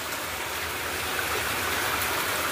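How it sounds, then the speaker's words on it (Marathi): A fast-flowing stream near a house rushes in a strong, continuous stream, a steady broadband gush with no voices. "ते पर्याचं पाणी आहे. ते जोरदार वाहतंय."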